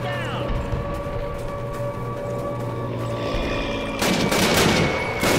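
A machine gun nest in Call of Duty opens fire, loud rapid bursts of automatic gunfire that rattle in over battlefield noise and shouting voices, growing heavier toward the end.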